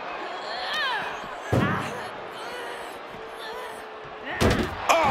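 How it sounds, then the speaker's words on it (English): Heavy doors bang open during a WWE 2K24 backstage brawl, two loud slams roughly three seconds apart, each a sharp broadband crash over steady game noise and crowd ambience. "Opening those doors."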